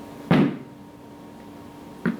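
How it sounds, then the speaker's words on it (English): Two sharp knocks of a tap shoe's toe tip striking the floor in a tap dance lesson, the first louder and the second softer about two seconds later, alone with no talk. "The way you knock is you hit the floor with that very top of your toe"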